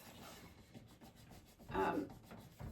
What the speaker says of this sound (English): It just needs a little bit more scrubbing.